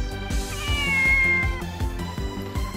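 A cat meows in a drawn-out, wavering cry over a steady rhythmic backing track at a live music event, the meow clear and prominent in the middle.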